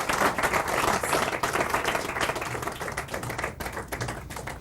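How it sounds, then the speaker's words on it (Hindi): An audience at a bravery awards ceremony claps steadily, a dense, continuous patter of many hands applauding throughout. "एक बार शिवांश के लिए तालियां"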